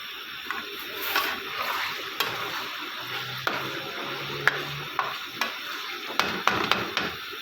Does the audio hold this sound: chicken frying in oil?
yes